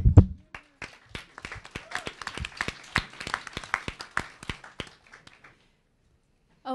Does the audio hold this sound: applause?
yes